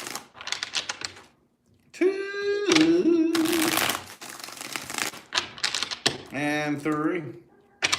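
A deck of tarot cards is shuffled in short, crisp bursts, separated by pauses, while a nearby voice counts between them.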